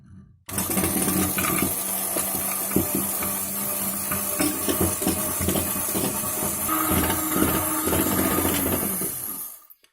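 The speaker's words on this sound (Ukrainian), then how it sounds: "І тепер включаю міксер і починаю збивати" An electric mixer whips a white glaze for Easter bread, a steady loud whirring hiss running unbroken for nearly ten seconds before cutting off, with no talk.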